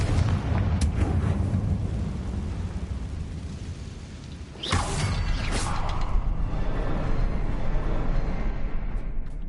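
A Confringo blasting spell explodes in Hogwarts Legacy: a sudden loud blast cracks out midway through a steady low rumble, followed by a sustained roaring boom, with no voices.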